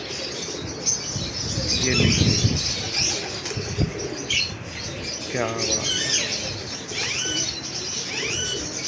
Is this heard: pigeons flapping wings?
yes